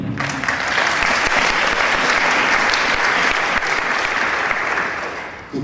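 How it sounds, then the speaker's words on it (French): Loud, sustained audience applause at the founding congress of the World Green Games, dense clapping from a large crowd filling the room steadily for over five seconds before stopping abruptly. "on peut l'applaudir"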